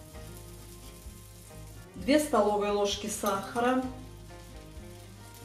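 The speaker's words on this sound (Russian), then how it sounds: "Яблоки обжариваются" Apples sizzle steadily as they fry in butter in a pan, a soft crackling hiss that continues under a person speaking.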